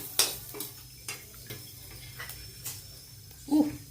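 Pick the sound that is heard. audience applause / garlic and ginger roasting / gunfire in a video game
garlic and ginger roasting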